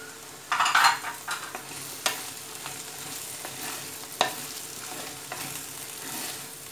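Chilli powder being stirred into a lady finger (okra) curry in a pan, soft scraping and stirring over a steady low sizzle of frying, with a few sharper knocks of the spoon.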